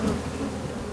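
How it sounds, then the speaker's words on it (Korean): Honeybees from yellow hives in a springtime apiary about 3 km outside a city drone in a dense, steady buzz of many wings, close and continuous throughout the brief moment. "수천만 마리의 벌들이 모기 활동을 위해 바쁜 날갯짓을 하고 있습니다"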